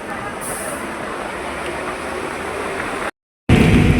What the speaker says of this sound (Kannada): ಫುಲ್ ಮಳೆ ಸ್ಟಾರ್ಟ್ ಆಯ್ತು ನೋಡ್ರಿ ಇಲ್ಲಿ.